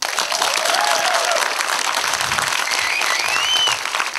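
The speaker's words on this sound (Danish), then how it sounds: "Nu skal I klappe." Audience applause at an open mic comedy show in Sønderborg, a steady wash of clapping filling the room for about four seconds before easing slightly at the end.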